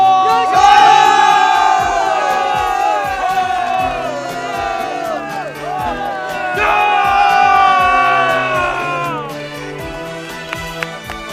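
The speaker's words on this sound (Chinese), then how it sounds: "今天，观众为你们欢呼" A big audience cheers and shouts in two loud, sustained swells, separated by a dip, with a drumbeat pulsing steadily underneath throughout.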